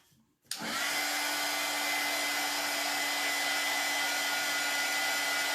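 A hair dryer switches on suddenly and blows steadily over a craft project, a loud, even whoosh with a constant motor whine and no talking.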